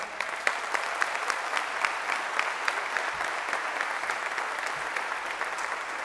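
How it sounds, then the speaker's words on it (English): Steady applause from a crowd at an American Legion Boys' State New York event, many hands clapping continuously at an even, moderate loudness throughout with no voices standing out. "they deserve a round of applause for what they've done"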